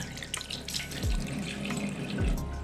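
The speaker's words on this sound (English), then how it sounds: "first, you got to wet your hands." Hands are wet under running tap water while handwashing, a steady close splashing stream from a faucet with water hitting skin and sink, and no talking.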